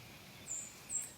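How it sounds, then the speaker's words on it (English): A white-throated sparrow sings two short, high, thin whistled notes, faint and somewhat distant, over a quiet outdoor backdrop near a back porch. "The white-throated sparrow."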